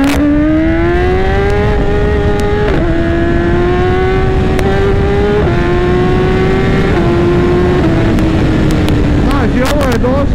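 A 2018 BMW S1000RR sport bike's engine revs loudly and close, its tone stepping up through several gear-like rises and brief drops across the span, with no talk over it.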